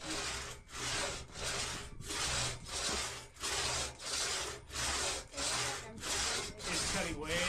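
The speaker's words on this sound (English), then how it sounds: "we have a real crosscut saw. Okay, don't, you gotta kind of let it work" A two-man crosscut saw cuts through wood in steady, rhythmic back-and-forth strokes, about a dozen rasping pulls in quick succession, loud and close with no talking.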